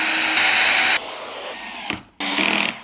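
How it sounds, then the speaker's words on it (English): A power drill bores holes to mount a bracket on a Huanuo sit-stand desk converter, running in a loud steady whine for about a second, easing to a lower drone, then starting a second burst after a brief pause. "Drill the holes."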